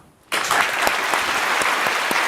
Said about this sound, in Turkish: Daha kuvvetli bir alkışla.